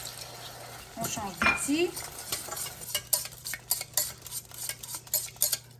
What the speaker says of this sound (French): On va venir verser un petit peu de lait à la fois en mélangeant constamment.